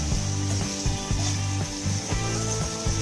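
Vegetarian dish frying in a pan over a slow to medium flame, with a steady close sizzle and periodic scraping stirs every half second or so, no voices.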